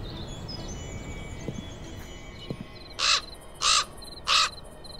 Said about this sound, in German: Der Rabe kam aus einer Felsspalte geflogen.